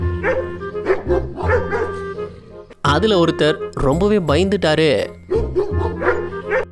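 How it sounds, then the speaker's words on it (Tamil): Two dogs chase skaters across snow, yapping and barking in quick bursts, with a loud voice talking over much of the barking. "இவங்க பனியில ஸ்கேட்டிங் போயிட்டு இருக்கும் போது திடீர்னு 2 நாய் அவங்கள துரத்த ஆரம்பிச்சிடுச்சு"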